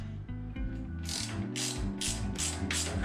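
Ratchet clicking as it loosens the gas tank nut on a Honda Fury motorcycle, a close, steady run of rapid metallic pawl clicks in repeated bursts, with no talking.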